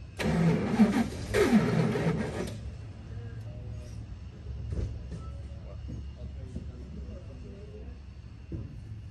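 A 1975 Dodge D200 Crew Cab truck engine revs loudly for about two seconds, then drops to a low, rough idle, with people talking nearby.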